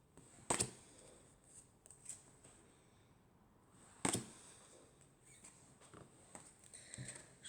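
A deck of silver-edged playing cards is handled and shuffled close by, with sharp riffling bursts and soft shuffling scrapes separated by quiet pauses.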